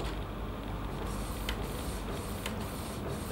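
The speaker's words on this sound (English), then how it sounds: "Now you can see the printing." An Epson T50 inkjet printer prints onto an RFID PVC card, giving a soft continuous mechanical whir with faint periodic clicks as the print head passes, close up and without speech.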